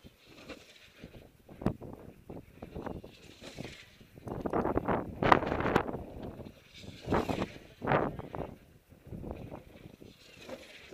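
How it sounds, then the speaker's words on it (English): Gusty wind buffets the microphone outdoors at a high-speed model aircraft flight session, rising and falling in uneven rushes with no talk. "The wind's just died off a little bit."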